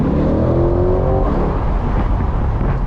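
A C8 Corvette pulling away hard from a stop on a city street, heard from inside: a loud, close engine roar rising in pitch as it accelerates, steady and dominant throughout.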